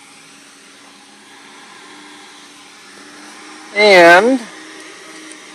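A TS60 engine revs freely in one short, loud burst that rises and falls in pitch, set against a quiet steady background, with a single spoken word nearby.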